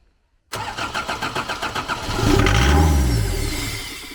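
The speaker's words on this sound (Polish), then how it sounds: "mam nadzieję, że widzimy się przy odpalaniu samochodu" A Lublin van's engine, just fitted with replacement rocker arms, cranks with an even series of starter pulses, then catches and rises into a loud, rough idle up close.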